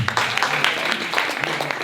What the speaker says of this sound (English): Please give a round of applause to Pronto Print.